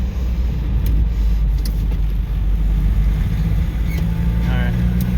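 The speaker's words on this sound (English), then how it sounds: "Now, man, listen to that rev up." Engine of a 1977 Toyota Chinook camper fitted with a Weber 32/36 carburetor, a loud, close, continuous low rumble that holds steady throughout.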